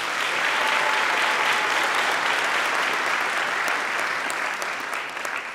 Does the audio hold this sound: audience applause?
yes